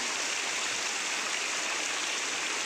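The Ompang waterfall in Kampar, a five-tiered falls, roars as a steady, dense wash of rushing water, close and constant with no voices.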